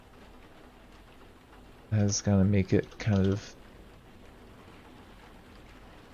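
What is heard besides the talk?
rain falling in the video game Cataclysm: Dark Days Ahead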